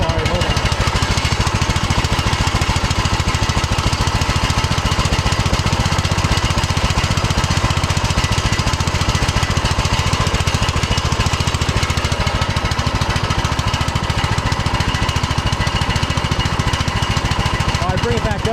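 A Troy Bilt Pony lawn tractor's small engine idles steadily while running rich, a loud, constant chugging drone close by that persists throughout without pause.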